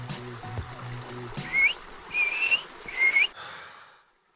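Three clear rising whistles from a person calling to a sheep beside the Hobart Rivulet, each a short bright note spaced about a second apart, after brief handling noise, against a steady background trickle of flowing water.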